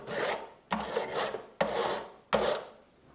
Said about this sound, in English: So I file these.